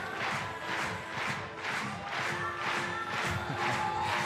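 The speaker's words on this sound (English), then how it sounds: "Crowd are getting so into this" A crowd at a women's lead climbing European Championship claps in time with music, producing rhythmic swells of cheering and applause that pulse roughly twice a second throughout.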